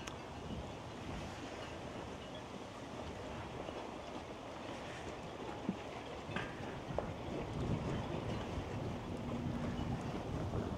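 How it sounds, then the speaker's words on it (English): Breezy wind blows down a lake at the Watkins Glen marina in New York, a steady broadband rush with microphone buffeting and faint water lapping, growing slightly stronger toward the end. "The wind's coming right down the lake."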